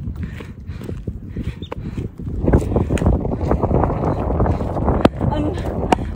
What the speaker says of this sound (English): The wind's so cold.